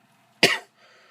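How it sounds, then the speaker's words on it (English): A single sharp, congested cough bursts out once and fades quickly in an otherwise quiet space. "forgive the cough, I'm still a little congested."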